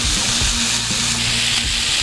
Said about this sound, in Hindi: अच्छे से इसको फ्राई करेंगे।